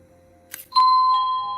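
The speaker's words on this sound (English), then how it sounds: "doorbell button is pressed. It defaults to the ding dong." A wireless waterproof doorbell chime sounds a single ding-dong after a brief click of the button, the second tone ringing out clear and sustained in a quiet room.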